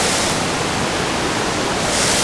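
The Upper Düden Waterfall in Antalya roars close by as a loud, dense and unbroken rush of falling water, steady from start to finish with no voices over it.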